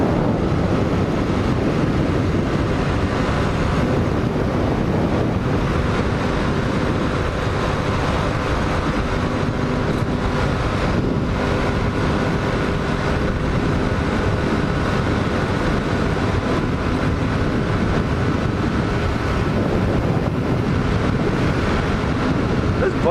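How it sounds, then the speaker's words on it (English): A Honda CX500 or Kawasaki LTD440 motorcycle runs at a steady cruise on a cold ride, its engine hum buried under loud, constant wind rush with no talk. "This bike's running really good right now."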